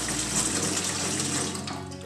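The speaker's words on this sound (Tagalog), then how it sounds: "Maglagay ng tubig dito sa palanggana." Water from a tap runs into a basin, a continuous close hissing gush that fills the whole stretch and settles slightly toward the end, with no talking.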